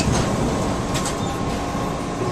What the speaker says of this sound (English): I'm taking the San Francisco train,